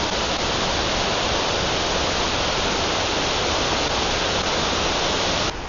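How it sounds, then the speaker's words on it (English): Kuang Si Waterfall in Laos, with many small cascades feeding a large fall, gives a continuous, dense roar of falling water, loud and steady throughout with no speech. "there's like even more of these mini waterfalls that turn into a big one back there"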